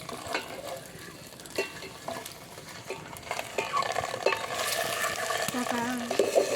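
Food for egg biryani fries in a pan with a constant sizzle, broken up by frequent spatula stirs and clinks against the metal, and the sound grows busier toward the end.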